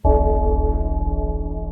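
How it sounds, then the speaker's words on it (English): A single struck bell with a deep, gothic church-bell tone starts sharply, then hums and rings on with a steady pulsing shimmer that decays slowly, heard alone without speech. "Let's ring the spoiler bell"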